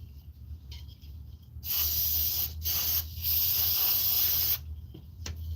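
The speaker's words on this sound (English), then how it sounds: "I'm gonna spray some," Spray cleaner is sprayed into the intake of a 2015 Ford F-150 while the throttle body is off, coming in a few loud sustained hissing bursts with brief gaps and a final quick spritz.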